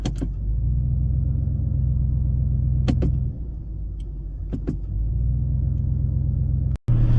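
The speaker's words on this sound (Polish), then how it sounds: "jak wbijemy skrzynię w tryb Sport, to auto od razu podnosi obroty na niemal 1000 i auto jeszcze głośniej pracuje" An Audi RS7 Sportback Performance with a 4.0 V8 idles with a steady low rumble, heard from inside the cabin with Sport mode raising the revs. A few faint clicks sit on top, there is a brief dip near the end, and no one speaks.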